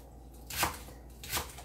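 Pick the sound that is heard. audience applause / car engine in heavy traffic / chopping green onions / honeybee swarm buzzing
chopping green onions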